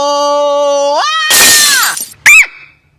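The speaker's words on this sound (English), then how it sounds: "you guys like that little effect that I do with the glass breaking?" A glass-breaking sound effect bursts in as a loud crash of shattering glass, preceded by a sweeping tonal whoosh and followed by a short sharp tinkle before silence.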